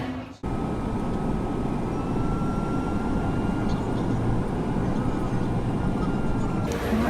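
A jet airliner's engines roar loudly and steadily at Geneva Airport, a dense continuous rumble that begins after a brief pause and holds for several seconds with no talking.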